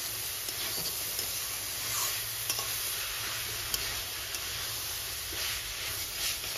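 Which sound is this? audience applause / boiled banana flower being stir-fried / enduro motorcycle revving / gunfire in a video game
boiled banana flower being stir-fried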